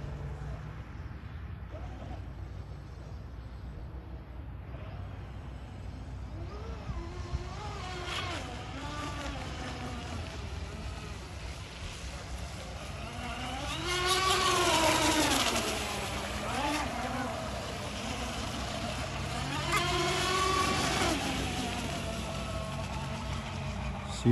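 Flow Cat race boat running at speed, a distant engine drone that swells twice into louder, rising passes, with people talking over it throughout.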